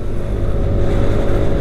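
A Yamaha Aerox Alpha motor scooter accelerates hard across a bridge over a large river in Kalimantan, its engine a loud, steady roar with heavy wind rush.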